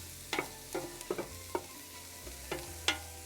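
Garlic and spices cooking in a pan for a homemade pasta sauce, a soft sizzle under several light spoon taps and scrapes against the pan, close but quiet, no voices.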